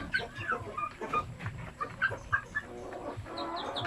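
Chickens at a farm in Alaay, Bukidnon, cluck and chirp close by in short irregular bursts, several birds overlapping with chick peeps and faint farmyard noise.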